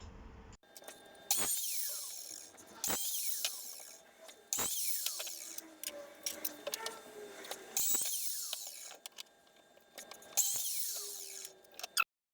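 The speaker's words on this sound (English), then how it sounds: "I'm going to use the chop saw just to chop 5 pieces of these" Chop saw cutting pieces of pallet wood, with five loud cuts in a row, each a sharp whining burst followed by the blade spinning down, close by and with no talk.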